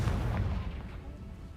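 A loud booming blast from the Confringo explosive spell in a video game, a single heavy low burst at the start that decays into a rumbling tail over about a second and a half.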